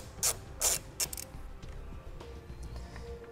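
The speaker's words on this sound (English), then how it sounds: "So I'm going to grab a 12 millimeter socket and remove the nut." A socket ratchet with a 12 mm socket loosens the battery terminal nut on a 2014 Nissan Maxima, giving a few close, sharp clicking bursts early on, then quieter mechanical handling.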